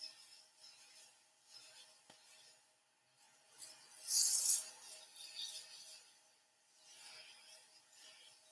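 Soft, raspy sanding hisses against a segmented wooden bowl spinning on a lathe at 1700 RPM, rising and falling in gentle sweeps with one brief louder burst midway; quiet and close.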